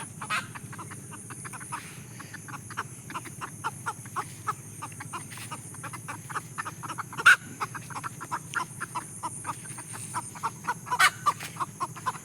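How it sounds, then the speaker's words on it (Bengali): Chickens call from beside a mesta jute field along a village dirt path. Faint, distant clucks repeat steadily over a continuous rural background hum, with no one talking. "পাট খেত দেখতে দেখতে ফ্রি ফ্রি মুরগির ডাকও শুনে ফেললেন"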